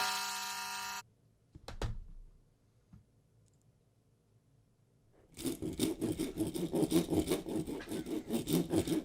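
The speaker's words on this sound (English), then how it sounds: "you don't need to file down your rocks right here" Rough, rapid rasping of a file being worked on rocks close by, starting partway through and scraping in a steady, busy rhythm after a brief burst and a quiet gap.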